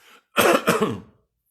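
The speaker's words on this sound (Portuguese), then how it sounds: "Estou tossindo aqui" A single close cough, preceded by a faint throaty sound, then silence.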